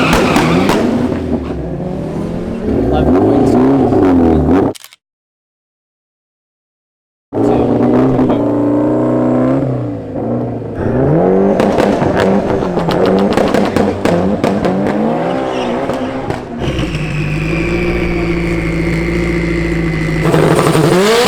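A Honda S2000 race car engine at a drag race, loud and close, idling and revving repeatedly with sharp rises and falls, then a brief silence before more hard revving and a sustained high-pitched pull.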